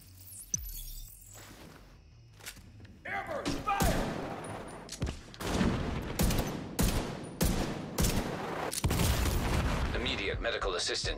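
Gunfire in The Division 2: after a quiet lead-in, a dense run of sharp rifle shots and bursts fires at close range, the volleys loud and repeated in quick succession with some faint game voices.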